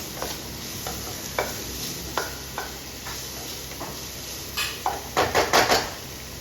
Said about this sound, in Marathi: टोमॅटो पण आपल्याला आता 2 मिनिटं त्यामध्ये परतून घ्यायचे आहे